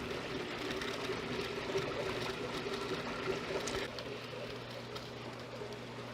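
Water spills steadily into the last chamber of an aquarium sump under a large 210-gallon tank, a continuous soft trickle and splash mixed with a low pump hum, faint and unbroken throughout.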